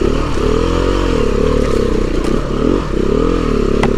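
Beta 390RR dirt bike ridden along a trail, its engine close and loud with a steady droning pulse, shifting pitch as the throttle varies, plus occasional clatter and scrapes from the terrain.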